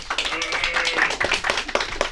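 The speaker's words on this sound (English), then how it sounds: "round of applause, please" Scattered applause and tapping from a small improv comedy audience, a steady patter of hand claps running continuously under general room noise.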